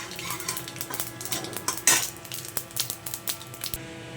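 Spoon clinking and scraping against a bowl while curry-leaf tempering is stirred into mung dal batter for chilla, a run of irregular close metallic taps and stirs with a sharper clatter partway through.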